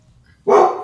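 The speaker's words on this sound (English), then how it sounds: "Hey, that dog deserves to bark." A single sharp dog bark breaks out close by after a near-silent moment, loud and brief, then fades.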